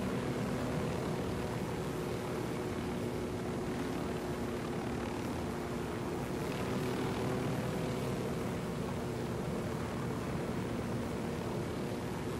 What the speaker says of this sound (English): Then we can speed up our helicopter.